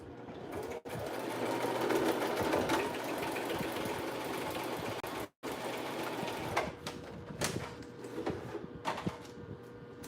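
A sewing machine running a test seam at factory tension setting 4, a steady fast whirring stitch that continues for several seconds, breaks off briefly, then resumes with uneven bursts near the end.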